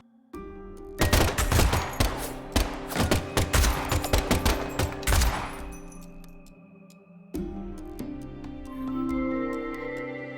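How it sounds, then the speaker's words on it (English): A rapid volley of gunshots in the Deadly Premonition 2 video game rings out loud and close for about five seconds, then gives way to a low sustained tone and ambient game music. "the last gunshot we heard sounded ominous"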